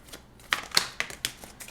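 Tarot cards being shuffled by hand, a series of crisp riffling snaps in quick, uneven bursts, close and fairly quiet.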